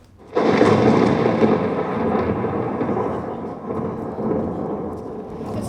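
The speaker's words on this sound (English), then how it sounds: "The storm is growing near." Thunder from an approaching storm cracks and then rolls in a long, heavy rumble that slowly fades and swells again, loud and enveloping with no voices over it.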